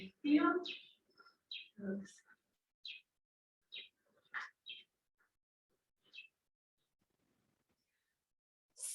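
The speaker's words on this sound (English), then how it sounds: "Oh, there's birds. Hope they don't fly at my face." Birds chirp outdoors in scattered short calls, some near and some farther off, with quiet gaps between them and a few sounds of people nearby.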